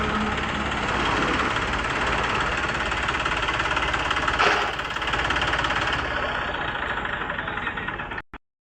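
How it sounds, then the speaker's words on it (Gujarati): A tractor engine rumbles steadily and loudly at a village roadside, a continuous heavy drone that swells slightly midway before cutting off abruptly at the end. "મિત્રો સામેથી એક બીજું પણ ટ્રેક્ટર આવી રહ્યું છે"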